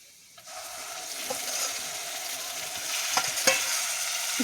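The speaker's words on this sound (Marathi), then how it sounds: "चला आता आपलं मसाला मस्तपैकी आपण असं तळून घेऊ आणि मग ही ग्रेव्ही आपण जी तयार केली का नाही ही याच्यात तळून घ्यायची" Masala gravy fries in oil in a pan, giving a steady, close sizzle that starts after a brief quiet, with occasional scraping clinks as it is stirred.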